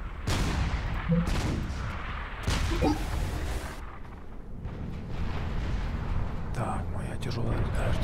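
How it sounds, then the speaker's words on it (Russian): Heavy artillery firing in the strategy game Supreme Commander, a dense ongoing barrage of booming blasts with repeated loud bursts over continuous low rumble, with voices speaking throughout. "Так, моя тяжелая артиллерия работает."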